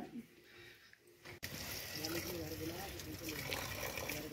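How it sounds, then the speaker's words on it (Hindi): A mountain water stream in the hills of Uttarkashi rushes steadily after a sudden start, a dense continuous wash of flowing water with faint voices mixed in. "ऐसे पानी के धारे जब आप पहाड़ में आएंगे तो जगह जगह मिलेंगे"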